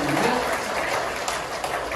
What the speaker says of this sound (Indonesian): Tepuk tangan bagi Bapak Ibu sekalian.